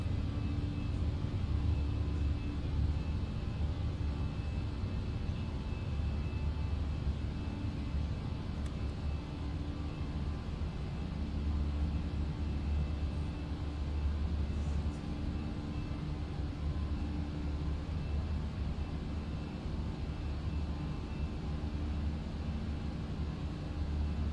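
An Airbus A319 cruises in the Fenix flight simulator, giving a continuous low cabin rumble with steady engine drone and faint tonal hum, unchanging over the whole stretch.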